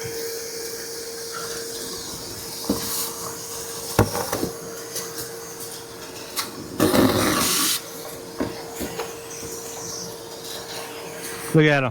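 A vacuum hisses and whooshes as it sucks up yellow jackets, broken by bangs, knocks and one loud rushing burst, while people talk excitedly over it.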